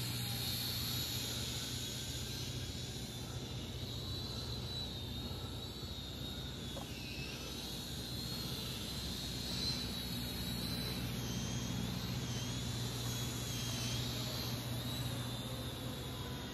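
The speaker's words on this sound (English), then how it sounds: "She's a quiet little drone." Syma X600 foldable drone flying outdoors at night in light wind, a faint continuous whining hum with shifting high motor tones held steady throughout.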